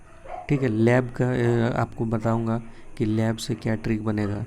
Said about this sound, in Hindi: कुत्ता भौंक रहा है यार